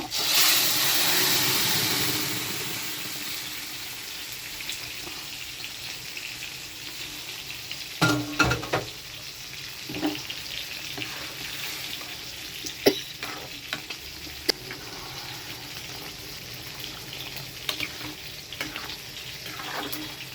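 Boiled malabar spinach dropped into hot oil sets off a loud burst of sizzling that eases into a steady frying hiss, with scattered clicks and stirring knocks throughout.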